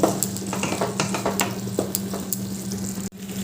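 Raw papaya kofta curry stirred in a pan with garam masala and chopped coriander, a spoon scraping in irregular strokes over a steady low sizzle, close and moderately loud, with a brief dropout near the end.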